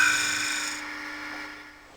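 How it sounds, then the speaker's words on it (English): A Robert Sorby multi tip tool shear scraping spinning wood on a lathe, a short high scratchy hiss that fades out over about two seconds. "Shear scraping is created by holding the tool so that the cutting edge is presented to the work at an angle."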